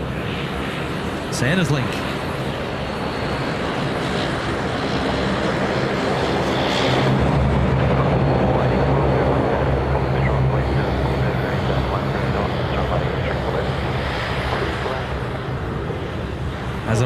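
A Dash 8 turboprop airliner at Sydney Airport gives a loud, sustained engine roar that swells and holds, with people talking over it throughout.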